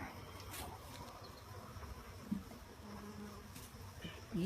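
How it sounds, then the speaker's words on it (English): Honeybees buzz steadily around an open hive, a continuous close insect drone with a couple of louder passes near the end and no talking. "Bees have been busy."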